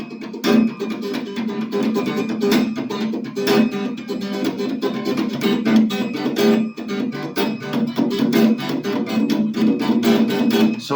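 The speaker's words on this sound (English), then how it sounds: "just to show you the principle of this chugga chugga technique" Funk guitar played with the chugga chugga technique, muted strumming that opens slightly between strokes, giving a steady stream of percussive scratchy chops in a driving rhythm, loud and close with no talking.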